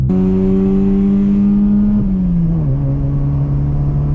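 Car engine heard from inside while overtaking on the road, a loud steady drone that holds its pitch, then dips and settles lower as the car shifts.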